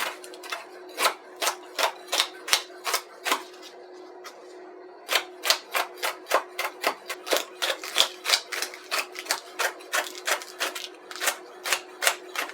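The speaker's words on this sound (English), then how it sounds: "got my green peppers cut up, ready to go" A knife chops green peppers on a cutting board in a home kitchen, a steady run of crisp, evenly spaced close knocks with a short pause partway through and no talking.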